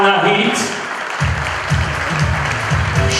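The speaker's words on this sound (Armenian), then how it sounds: "խնդրում են բարձր ծափեր մեր պեսարի ծնողներին" A crowd at an Armenian wedding applauds the bride's and groom's parents, with sustained clapping under a voice talking over a microphone.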